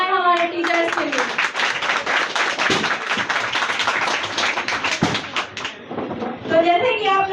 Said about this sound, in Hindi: तो जोरदार तालियां हो जाए हमारे टीचर्स के लिए।